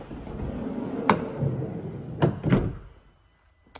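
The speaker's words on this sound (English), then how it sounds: "the twin sliding doors, both of which have power latching" The power-latching sliding side door of a 2023 Volkswagen Transporter Kombi rolls along its track and shuts with a firm thud, followed by a couple of solid latching clunks, close and fairly loud with no talk.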